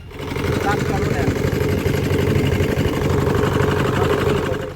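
A trawler boat engine runs on a haor wetland at night, a steady, close mid-pitched drone with a fast rhythmic chug that continues unbroken beneath talking.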